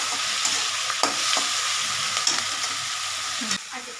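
Tomatoes hit a pan of chicken masala for Bengali chicken kasha, a steady loud sizzle with stirring scrapes and small clatters throughout, easing slightly at the end.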